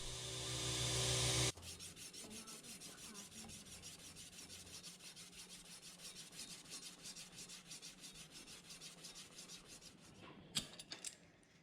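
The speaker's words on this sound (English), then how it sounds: "Once I've got the blade hand sanded down to a higher grit" A nickel and steel Japanese-style knife blade being hand sanded, with steady rapid back-and-forth rubbing strokes, close and even, after a brief louder machine noise at the start.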